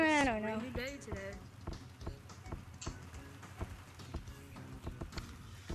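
Rain falls steadily on a rainy day in a roleplay game scene, a soft continuous patter with scattered drop-like ticks beneath a voice that speaks at the start.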